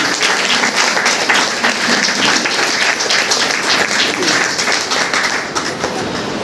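Audience at a DXN meeting in Basti applauds loudly and continuously, a dense, sustained clapping that fills the room with no pauses.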